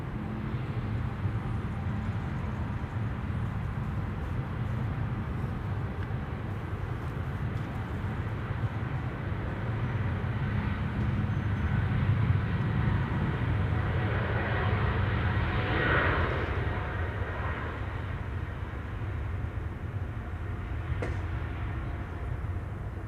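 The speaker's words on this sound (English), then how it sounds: "And this is a 777-200." A Boeing 777-200 airliner at Amsterdam Schiphol Airport produces a steady, moderately distant jet roar that swells slightly midway and holds as a continuous drone, no talk over it.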